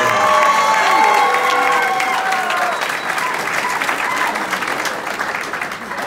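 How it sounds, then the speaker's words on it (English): An arena crowd at a Baltimore Blast celebration applauds and cheers loudly, with whoops and shouts over sustained clapping that slowly eases off. "Give it up for our assistant general manager, Mike Conway!"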